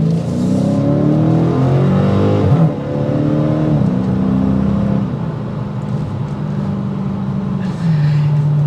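A 2023 Dodge Challenger Scat Pack floored from a stop, its V8 roaring loudly from inside the car with rising revs and a gear shift partway through, continuing strongly to the end.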